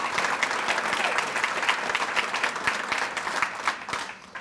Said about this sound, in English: Another round of applause for Maria.